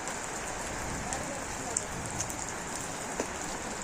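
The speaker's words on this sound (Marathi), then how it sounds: "एवढं आमच्याकडे चांदशे गावात पाऊस पडलेला आहे" Rain pours steadily in a village, a dense, even hiss of drops on surfaces with a few sharper taps rising above it, close and continuous.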